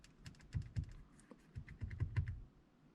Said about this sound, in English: Button noises, here we go.